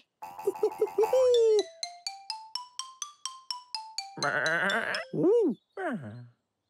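A cartoon sheep in a children's show bleats in two or three wavering, sing-song calls, following a run of bright rising toy-like tones.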